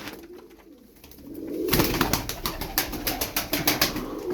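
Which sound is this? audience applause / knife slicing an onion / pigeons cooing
pigeons cooing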